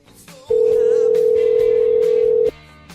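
A landline telephone sounds a single steady tone lasting about two seconds, loud and close, with faint background sound before and after.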